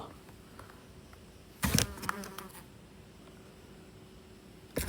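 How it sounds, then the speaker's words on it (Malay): A single large housefly buzzes indoors in a house at night, passing close in a couple of brief loud bursts against a quiet room. "Besar lalat ni."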